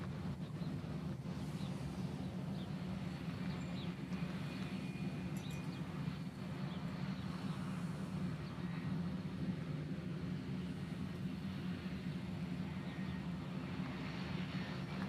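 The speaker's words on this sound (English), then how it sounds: "So the 717 is coming in from Hilo" A Boeing 717 airliner arriving at Honolulu from Hilo gives a faint, steady, distant engine drone that holds evenly from start to finish.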